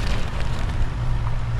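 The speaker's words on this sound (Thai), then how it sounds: "ฝนตกแล้วทุกคนถึงหมายแล้วฝนตกครับ" Steady rain falls at a pier by the water, a constant dense hiss of drops with a low rumble underneath, unbroken and with no voices.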